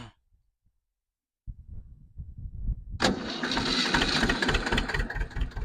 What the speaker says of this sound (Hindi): एक सेल्फ का इशारा दिया और ट्रैक्टर स्टार्ट हो गया